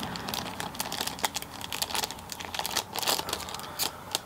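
Crinkly plastic wrapper of a Paqui One Chip Challenge chip being handled and opened, a dense run of close, loud crackling and crunching with sharp rustles throughout and no talk.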